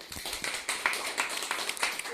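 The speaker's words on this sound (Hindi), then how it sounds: "सर जरूर ताली मारना चाहिए" An audience claps together in a steady patter of many hands, with rhythmic peaks, moderately loud and without speech on top.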